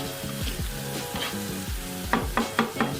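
Finely chopped garlic fries in a pan with a close, crackling sizzle, joined near the end by several sharp stirring scrapes; no one talks.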